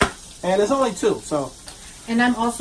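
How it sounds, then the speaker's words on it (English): Beyond Meat plant-based hot sausages sizzle and crackle in a cast iron pan, a steady frying hiss running under a person talking close by. "if you hear that sizzling in the background, I'm making Beyond Meat hot sausages."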